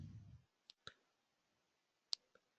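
Mouse clicks on a download link, a few sharp isolated clicks close and quiet, spaced apart in near silence after a brief low rustle.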